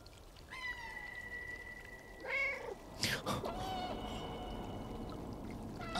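Meows from a cat in the video game Stray, a few clear drawn-out calls rising and falling over a faint trickling water bed, near and fairly quiet.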